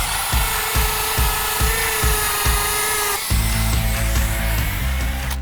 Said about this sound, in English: you'll just be drilling right into the pavement